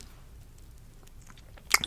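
Two earrings clink together in a brief, bright metallic tinkle near the end, following a quiet stretch with only low background rustle and no talking.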